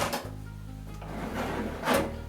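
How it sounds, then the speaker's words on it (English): A small chaff drawer slides out of a BeanGo Cube X Pro compact coffee roaster, giving a short scraping pull and a light knock at the end, close and clear. "you take the drawer out, and you take the little chaff drawer out"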